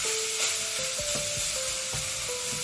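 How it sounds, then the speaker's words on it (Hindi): Minced meat with browned onion and ginger-garlic paste sizzles gently in a pan, a steady close frying hiss broken by repeated scraping stirs. "कीमा को डाल के मैं आहिस्ता आहिस्ता उसको भून रही हूँ"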